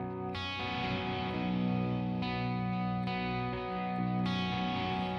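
Electric guitar played with a clean tone through an effects unit that adds slight distortion, a few sustained chords ringing steadily with a gritty edge and some chorus-like shimmer, with no voices.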